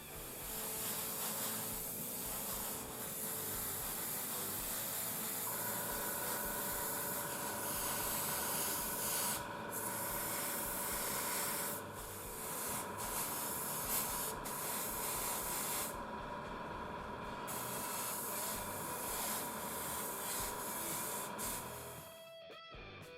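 An airbrush sprays paint onto the propeller blades of a 1/48 scale Bf-109 model, a continuous close hiss of air with short pauses and slight shifts in pitch, ending abruptly, with no voices.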